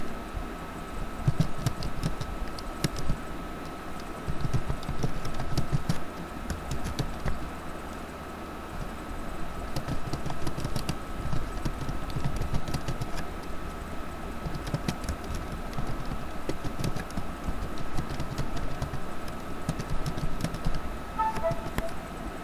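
Keys clatter steadily on a computer keyboard as text is typed, a close, even patter of quick taps running through the whole stretch with brief pauses, no talking over it.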